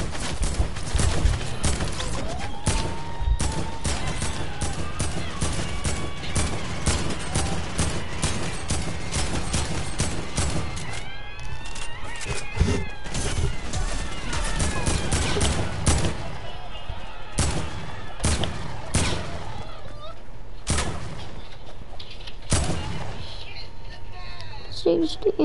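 Rapid video-game gunfire crackles in repeated bursts and single shots, some in quick strings, running under near-constant talking throughout.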